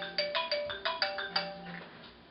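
A telephone rings in a repeated pattern of sharp, bright electronic chirps, about five quick bursts in a row, fairly clear and close with some room noise beneath.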